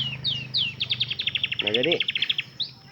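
Pet canary chirping in quick bright repeated notes close by, a rapid trill running through the middle, while someone speaks briefly underneath.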